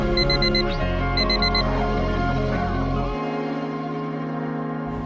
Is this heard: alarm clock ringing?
yes